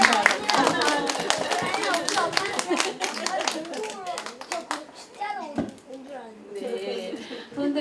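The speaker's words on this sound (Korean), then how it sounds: "여기 어린이 여러분 어머니께 박수 한번 쳐주려야 될 것 같아요." Audience at a book talk claps in sharp rhythmic bursts, with children's voices and chatter mixed in, then the clapping dies away into scattered talk and a little laughter.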